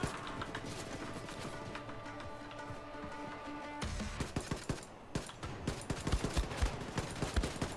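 A gun in Wolfenstein II: The New Colossus fires a rapid string of sharp shots that grows louder and denser, crackling over a steady game background with no voices.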